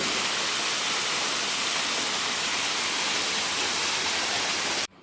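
Water sprays steadily from a hose watering plants in a resort garden, a continuous close hiss of falling water that cuts off abruptly near the end.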